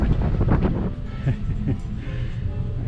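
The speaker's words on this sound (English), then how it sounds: "It's windy out there and cold." Wind blusters across the deck of the Holland America cruise ship Maasdam, a rough, rumbling buffet hitting the microphone in uneven gusts, loud and close.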